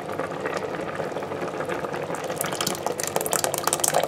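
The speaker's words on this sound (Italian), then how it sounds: "Adesso andiamo ad aggiungere il pomodoro." Tomato sauce goes into a hot pan of a Moulinex Companion cooker while making Neapolitan ragù, a steady bubbling sizzle and liquid pour that grows busier and more spattery toward the end, with no talk.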